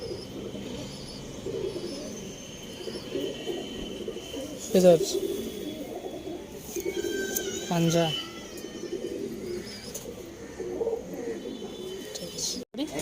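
Low, rolling coos from several Arsad and Andhra pigeons in a loft, a steady murmur with a few louder bursts, heard beneath someone talking close by.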